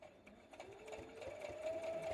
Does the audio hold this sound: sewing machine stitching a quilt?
yes